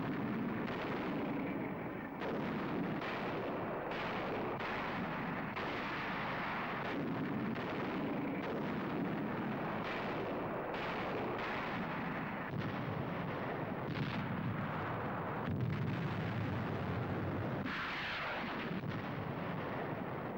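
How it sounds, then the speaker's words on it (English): Archive film sound of the naval and air bombardment of Iwo Jima: a dense, continuous roar of artillery and explosions, with heavy booms rising out of a steady rumble for the whole stretch and no voices. "By sea and by air, Iwo Jima is subjected to more than 70 days of bombardment"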